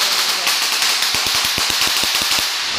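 Diwali firecrackers rattle off in a fast string of sharp pops over a loud crackling, hissing roar, close and continuous.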